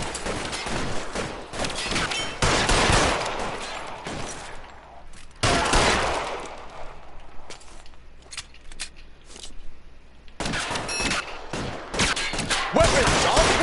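Machine gun fire during a shootout in the LA Noire video game comes in several loud, dense volleys of rapid shots, separated by quieter pauses.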